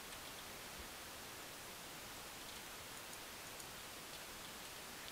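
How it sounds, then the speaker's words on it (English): Rain falls steadily in the Minecraft-style game Godcraft, a dense, even hiss of downpour with faint scattered droplet ticks and no voices. "it rains a lot on this server"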